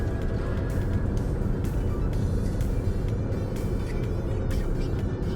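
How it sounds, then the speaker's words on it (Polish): Road traffic crawling in a heavy jam among many trucks, a continuous low engine rumble from nearby vehicles with faint intermittent higher noises, no voices. "Jaki tu jest korek?"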